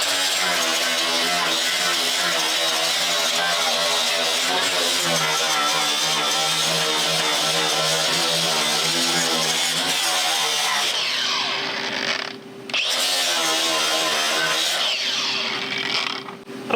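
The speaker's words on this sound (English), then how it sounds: "So let's just grind this down a little bit, and then we'll hit it with 80 grit." An angle grinder fitted with a 40-grit flap wheel grinds down welded sheet metal on a classic car, a loud continuous whine throughout that briefly cuts out and then resumes near the end.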